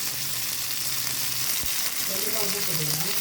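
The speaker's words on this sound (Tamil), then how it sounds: "வெண்டைக்காய் நல்லா வதங்கிட்டா உப்பு போட்டுக்கிறோம்" Okra sautéing in a pan for sambar gives a continuous loud sizzle, with a brief stirring clink partway and a faint hum of background voice near the end.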